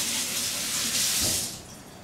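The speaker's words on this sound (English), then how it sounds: "I'm going to wash my hands" Water runs from a kitchen tap while hands are washed beneath it, a steady close hiss of flow lasting a couple of seconds.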